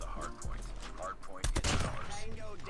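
Rapid bursts of Manowar gunfire in the video game COD Mobile crack out in a quick cluster of close, sharp shots, set over a game soundtrack and ambient effects.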